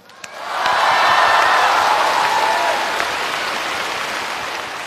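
A studio audience breaks into sustained, loud applause for Gao Yuan at a table tennis competition event, swelling quickly after a brief pause and holding steady with no talk.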